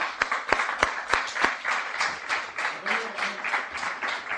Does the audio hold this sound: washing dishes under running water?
no